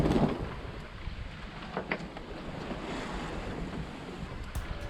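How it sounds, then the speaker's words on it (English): Big ocean waves rush and wash steadily around a sailboat running deep about 75 miles offshore, with gusting wind noise buffeting the microphone throughout and no talking. "as you can hear there from these waves"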